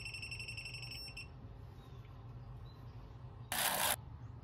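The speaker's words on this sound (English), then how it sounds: "there's another step to it, where the beep starts getting a little more rapid, and it really starts alerting when you make contact" An Ideal voltage detector tester gives a rapid series of high, thin electronic beeps for about a second, then stops. Low background hum continues, and a short loud burst of noise comes near the end.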